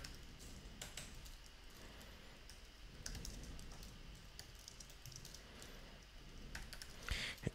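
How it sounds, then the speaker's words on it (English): A computer keyboard tapped in quick, uneven runs of light clicks, close but quiet, with short pauses between bursts and a slightly louder cluster of keystrokes near the end. "type in the address of my development store"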